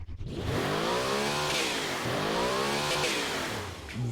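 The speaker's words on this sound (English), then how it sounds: "Let's give our engine a bit of a listen." A V16 go-kart engine in the BeamNG driving game revs up in rising and falling sweeps, a loud, continuous buzzy whine that swells twice across the clip.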